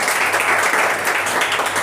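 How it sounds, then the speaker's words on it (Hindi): Audience applause at a spoken English practice session rings out, a short dense burst of clapping that stays steady and fairly loud for about two seconds. "तो जोरदार तालियों से आशीष का एक बार और स्वागत"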